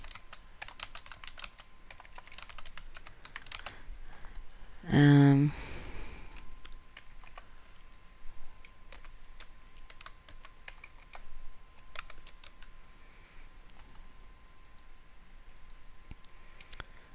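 Fingers typing on a computer keyboard, with sparse, irregular clicks spread across the stretch and one denser, louder flurry of keystrokes early on.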